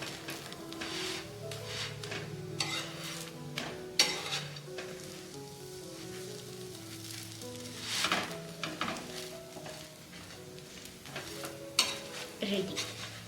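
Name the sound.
chakli pitha frying in a pan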